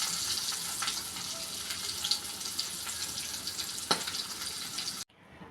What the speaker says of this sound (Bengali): মাছগুলো লবণ, হলুদ, মরিচ দিয়ে মেখে ভেজে নিচ্ছি।